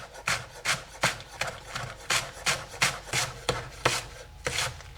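A knife chops steadily through spring onions on a board, about a dozen crisp, evenly spaced cuts close to the mic with no talking.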